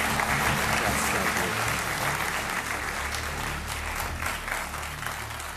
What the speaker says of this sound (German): Das ist ein gemeiner Applaus.